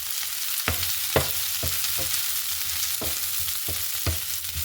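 Two large sliced onions hit a hot pan for a chicken stew, frying with a steady sizzle broken by several sharp knocks and scrapes as they are stirred.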